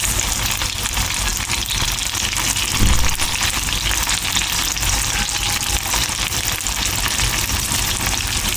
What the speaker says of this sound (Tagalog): Okay na guys yung ating sibuyas, bawang at luya. Lagyan na natin ang ating kamatis.